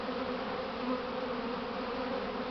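A swarm of honeybees fills the air with a dense, continuous drone that stays close and loud throughout, with no voices.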